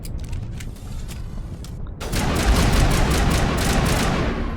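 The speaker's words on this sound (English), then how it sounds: "Oh, we're being shot at." Rapid bursts of gunfire from a Mass Effect Legendary Edition firefight, starting sparse and then swelling into a dense, continuous volley of shots after a couple of seconds, loud and close.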